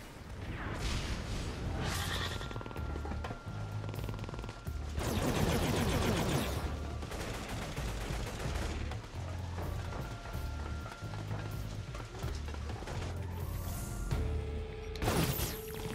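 Sniper gunfire in a video game: sharp, loud shots and bursts crack out amid a busy, continuous mix of in-game music and effects, with the heaviest volley in the middle and another near the end.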